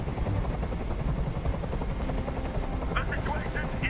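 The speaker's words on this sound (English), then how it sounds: "Tell that helicopter to get out of here." Helicopter hovering overhead in the video game Detroit: Become Human, a steady loud rotor drone running throughout, with voices talking over it.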